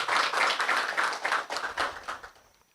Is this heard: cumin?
no